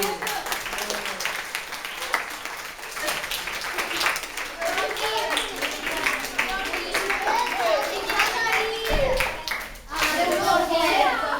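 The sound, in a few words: children clapping for the army group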